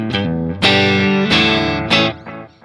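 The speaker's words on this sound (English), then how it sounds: "I'm gonna put just a little bit of delay for comfort" Electric guitar notes and chords from a Stratocaster ring out with a delay effect, each strike trailing into soft repeating echoes, played alone and fairly loud.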